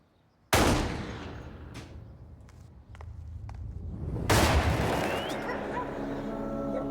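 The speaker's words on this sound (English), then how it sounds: "he hears 2 gunshots, and he said there's about a 4-second delay, and then the 3rd shot" Two sharp gunshots ring out several seconds apart, each loud blast followed by a lingering echo and faint background noise.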